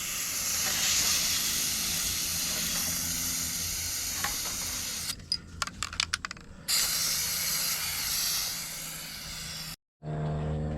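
Cleaner sprays onto an RMAX 1000 foam air filter in a long continuous hiss, broken by a burst of short sputtering squirts, then resumes before cutting off abruptly and briefly returning.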